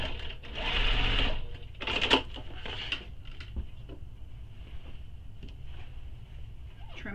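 Sewing machine with a walking foot stitching through bulky layers of a tote bag, two loud whirring bursts of stitching followed by quieter clicks and handling noises.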